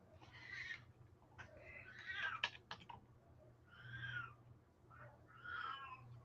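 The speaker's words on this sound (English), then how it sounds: "Oh, poor mouthy kitty." A cat meows repeatedly indoors, with about five drawn-out, plaintive cries separated by short pauses, fairly close and clear over a low room hum.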